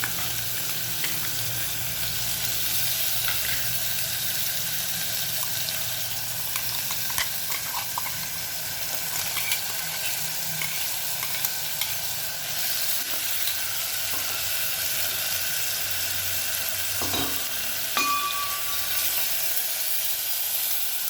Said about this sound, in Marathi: त्यामध्ये टोमॅटोची ग्रेव्ही केलेली आहे ती घालू